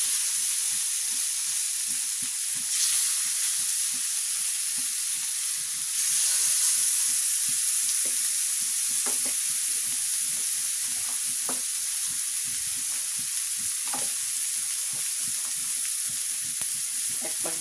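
Marinated tandoori chicken frying in hot oil in a pan over high flame, a steady loud sizzle and hiss running throughout with occasional sharper crackles and pops, close by and without speech.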